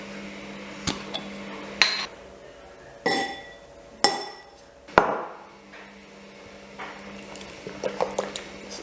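Food being mixed in a bowl for a vegan meal: a series of separate clinks and knocks of a utensil against the bowl, with wet, squishy stirring between the hits, fairly close.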